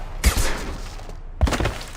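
Two loud, close bursts of rapid gunfire in the video game Mass Effect 2 are separated by a brief silent gap, and each burst rings on after its sharp onset.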